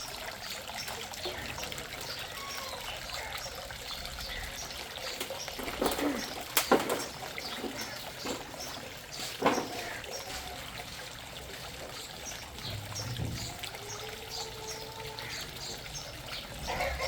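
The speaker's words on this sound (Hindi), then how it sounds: "ये वाला जब भर जाएगा तो इसमें से पानी नीचे गिरेगा।" Water trickles and dribbles down a homemade fountain in a steady, close stream, with a few brief sharp knocks. Faint bird calls sound in the background.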